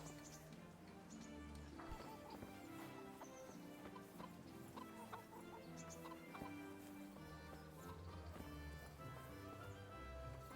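Chickens cluck in the Kingdom Come: Deliverance game world, soft and scattered within a dense, steady bed of ambient music and village noise, with hoof-like clops mixed in.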